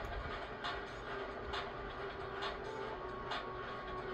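Train ride in the 2002 game Ratchet and Clank, a steady faint rolling rumble with evenly spaced clacks recurring about once a second, continuous and without talk.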